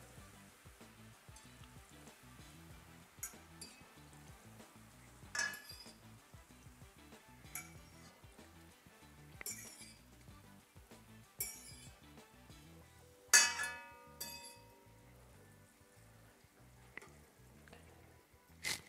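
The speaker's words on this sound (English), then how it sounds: "Now all we're gonna do is transfer our noodles from our pot" Ramen noodles are moved from a pot into a pan of sizzling veggies, with scattered metal clinks and scrapes over a low, steady frying hiss.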